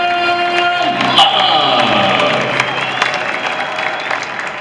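A stadium crowd applauds and cheers a military honoree at an El Paso Chihuahuas baseball game, a broad sustained roar blended with a tonal stadium sound and an echoing announcer's voice that fades out.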